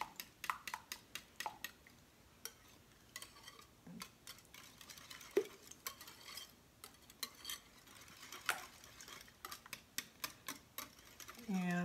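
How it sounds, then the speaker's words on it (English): Spoon stirring vanilla into a bowl of breakfast mixture, with light irregular clinks and taps against the bowl, quiet and close, scattered through the stretch with faint background noise. "we're just going to mix that around and make sure it's all mixed together"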